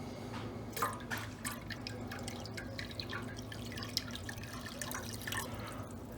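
Engine oil poured into a Milodon oil pan on a Hemi-swapped Dodge Dakota or Durango, a quiet trickling, dripping stream, faint and steady throughout with scattered small splashes.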